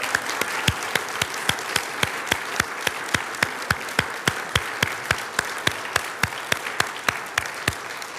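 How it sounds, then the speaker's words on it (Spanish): A church congregation claps in loud, steady unison, sharp synchronized beats about three per second over a soft wash of crowd noise throughout. "Ten un aplauso bien fuerte al Dios de la gloria"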